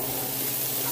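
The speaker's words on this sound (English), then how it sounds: "Saute them real quick." Onions and garlic sautéing in a pan for creamy chicken noodle soup, a loud, steady, close sizzle with no talking.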